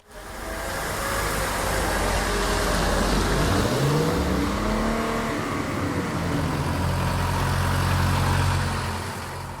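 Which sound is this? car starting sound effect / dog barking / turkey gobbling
car starting sound effect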